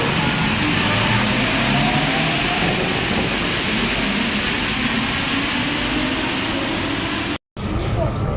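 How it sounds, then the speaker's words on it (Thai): RER train pulling into Châtelet station platform in central Paris, a loud sustained rumble and rolling wheel noise filling the underground space, cut by a brief dropout near the end; someone speaks over it. "เดี๋ยวรถไฟกำลังจะเข้าชานชาลา"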